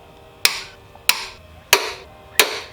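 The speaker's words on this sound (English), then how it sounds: "now I'm gonna torque these" A torque wrench tightens Diamond motor mount bolts on a MazdaSpeed 3 to 60 and 65 foot-pounds, giving four sharp, loud metallic clicks spaced evenly about two-thirds of a second apart, each ringing briefly before fading, with no voices.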